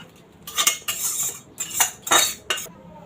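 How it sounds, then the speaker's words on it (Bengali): Curry tipped out of a metal pot, heard as bursts of spoon scraping and clanking against the pot in quick, uneven strokes, close and fairly loud. "তাহলে এবার আমি তরকারিটা ঢেলে নিই।"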